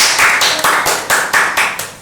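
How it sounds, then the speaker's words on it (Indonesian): Audience applause for a guest being called on stage at an Indonesian evening talk show, a steady crowd clapping that swells in repeated surges for about two seconds, with no talk over it. "Tepuk tangan ya."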